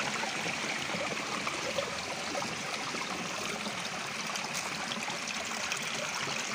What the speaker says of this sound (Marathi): हा झऱ्याचं पाणी